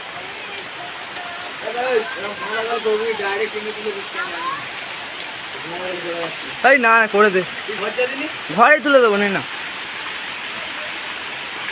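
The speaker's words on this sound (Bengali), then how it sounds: "চারিদিকে শুধু বৃষ্টি আর বৃষ্টি।" Rain falls steadily outdoors around a flag hoisting, making a soft, continuous hiss under close conversation between several people.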